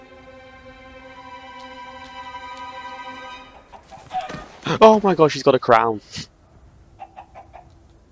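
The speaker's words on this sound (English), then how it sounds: "Oh my gosh, that chicken's got a crown" A crowned chicken clucks in the video game Minecraft Story Mode. A quick run of sharp clucks bursts out mid-clip after a steady droning tone, and someone talks around it.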